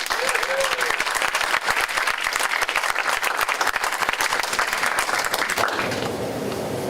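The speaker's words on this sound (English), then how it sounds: "let's just take a clap one more time" A workshop audience claps together in dense, sustained applause close by for several seconds before it fades out near the end.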